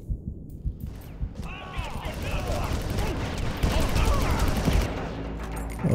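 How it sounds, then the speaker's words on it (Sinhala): Bombs and gunfire in the video game Far Cry during a volcano mission, rapid bursts of shots and blasts piling up into a dense, loud barrage that carries on almost without pause. "බෝම්බ දානවා"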